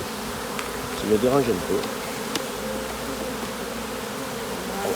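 Honey bees buzz steadily around a beehive in late February, a close continuous drone with a few louder passes, and someone briefly speaks in French over it.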